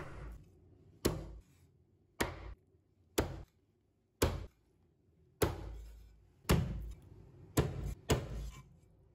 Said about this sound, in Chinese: 把它剁成小块。